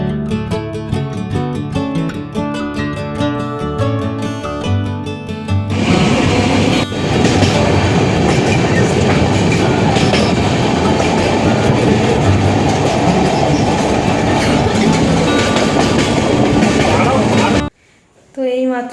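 A train at Chandipur station near Baleshwar, loud and close throughout: music-like tones in the first few seconds, then a dense, steady rumble of rolling carriages with rhythmic clatter that cuts off briefly near the end.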